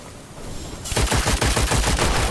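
In the dark fantasy shooter Witchfire, gunfire bursts in loud and close, a rapid string of sharp shots following a short rumbling lead-in.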